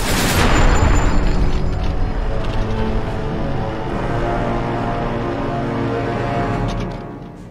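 A grenade explodes in the video game Fallout 3, one loud close blast right at the start that decays into a long rumbling tail before fading.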